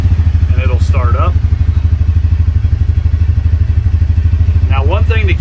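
A UTV engine fires up with a push-button start and settles into a steady, loud idle, its rapid even putter running throughout, with brief talk over it near the start and end.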